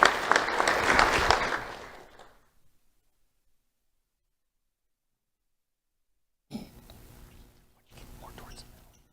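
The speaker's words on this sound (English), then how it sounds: "Let's have a round of applause for Nayeli Rivera Silva" Applause from an awards ceremony crowd fills the opening two seconds as a dense, loud burst, then fades into silence before softer rustling and murmuring return near the end.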